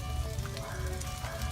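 Onions hitting a hot pot for Hoosier stew, a steady crackling sizzle that stays even and close throughout the short stretch.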